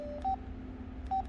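An Alltel LG AX390 mobile phone plays a ringtone as two short, identical electronic beeps about a second apart over a low background hum.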